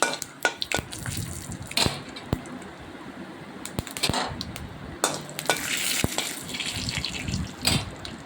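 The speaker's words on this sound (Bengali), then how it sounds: "ভাজা হোক সুন্দর একটা সুগন্ধ বেরিয়ে আসুক" Whole cumin, fennel, radhuni, nigella, dried chilli and bay leaf fry in hot oil for mung dal, giving a steady soft sizzle with scattered stirring scrapes and clicks, close and moderately quiet.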